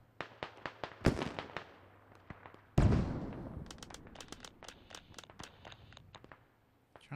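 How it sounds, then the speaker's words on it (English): Gunshots ring out in the military shooter Squad, a string of sharp cracks at irregular spacing, some close and loud with reverberant tails, others farther off and lighter, with scattered quicker bursts. "I do hear those shots off to my right"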